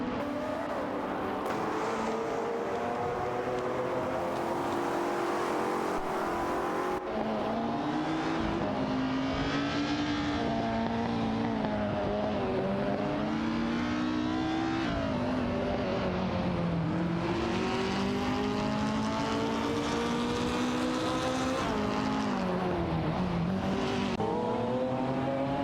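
Radical RXEC Turbo 600 race car engines in a racing video game roar continuously, with rising and falling revs, gear changes, and several cars layered together at a loud, steady level.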